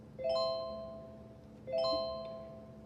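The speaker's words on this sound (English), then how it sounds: "when they do the correct motion, you'll hear the ding" Two bright electronic chimes from a rehab app ring out for a correct motion, about one and a half seconds apart, each with a quick bell-like attack and a slowly fading tail.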